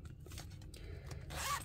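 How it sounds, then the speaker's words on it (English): Zipper on a cash envelope wallet being pulled open or closed, a close, dry rasping run of about a second and a half that grows louder and brighter toward the end, with no talking. "A zipper here."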